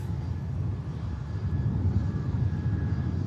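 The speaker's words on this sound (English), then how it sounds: "Logan Air on finals now from Southampton" A Loganair airliner arriving from Southampton on final approach at Manchester Airport makes a steady, distant engine rumble with a faint whine above it, even and continuous throughout.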